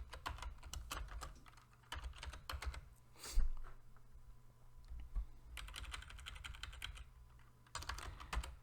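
Fingers type on a computer keyboard to rename a sketch in SOLIDWORKS, quiet clustered bursts of key clicks separated by short pauses, close and faint.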